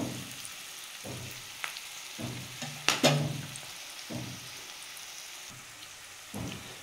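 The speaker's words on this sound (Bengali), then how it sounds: "পেঁয়াজ রসুন সব একসাথে ভালো করে ভেজে নেব।" Onion and garlic sizzle steadily in a hot pan, with occasional scraping stirs and clinks of a utensil against the pan.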